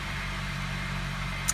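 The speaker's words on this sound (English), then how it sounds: "We're going to turn the car on." Steady low engine hum from a 2003 Honda CR-V with its ABS warning light on, idling close by at an even level with one faint click near the end.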